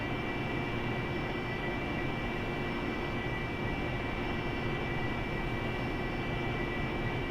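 Airplane taxiing in a flight simulator game: a steady, even engine drone with a constant whine on top, unchanging throughout and with no voices.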